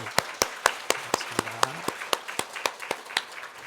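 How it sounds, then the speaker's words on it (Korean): A church congregation at a Korean Sunday worship service welcoming a new member with rhythmic applause, a steady beat of hand claps, moderately loud and in unison, with a faint voice briefly underneath. "우리 박수로 환영하겠습니다"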